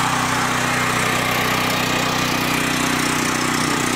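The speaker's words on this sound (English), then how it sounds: "I'm now about 10 feet or so from the generator. It's idled out, or smoothed out the idle pretty well." A Westinghouse WGen7500 gas portable generator idles about ten feet away, a loud, continuous, even engine drone with a steady low throb and broad hiss, no voices over it.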